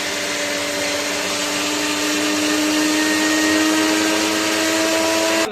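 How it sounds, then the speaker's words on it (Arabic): A blender mixing a shawarma marinade whirs steadily at high speed for several seconds, a loud continuous motor drone with no pauses. "إذا متوفر عندكم خلاط أفضل"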